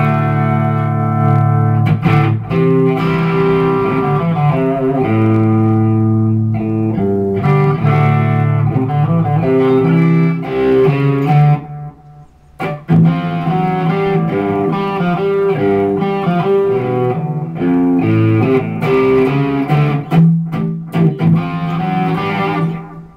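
Heavily distorted electric guitar with single-coil pickups playing sustained chords and riffs through a Carvin V3 amp at high gain, loud and continuous with a short pause midway.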